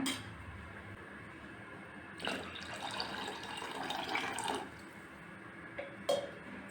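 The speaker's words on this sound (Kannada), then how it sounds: "ಇನ್ನು ಸ್ವಲ್ಪ ನೀರು ಹಾಕೋಣ" Water poured into tomato rasam in a pot, a splashing pour swelling for a couple of seconds in the middle, fairly faint and close, with no talking.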